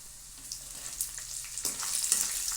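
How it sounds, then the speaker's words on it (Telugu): Chopped green chillies fry in a tempering pan, giving a steady soft sizzle with faint crackles and pops that grow slightly louder toward the end, close by and alone. "ఈ పచ్చిమిరకాయ ముక్కలు కూడా బాగా ద్వారగా వేయించుకోవాలండి."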